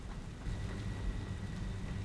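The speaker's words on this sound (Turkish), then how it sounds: "Şimdi yağmur başladı." Rain in the factory-building video game Satisfactory, a steady low rumbling wash of falling rain with a faint thunder-like roll underneath, no voices.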